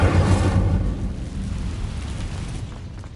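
Incendio fire spell cast in Hogwarts Legacy, a loud low whooshing burst of flame at the start that fades into a rumbling crackle over a few seconds.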